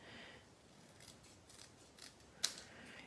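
Scissors cut through cardstock in a few soft snips, ending in one sharp, close closing snap, quiet throughout.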